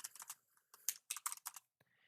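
Keystrokes tap out on a computer keyboard while a Monk build is written up for a game, coming in quick uneven bursts with short pauses between them, close and clear with no talk.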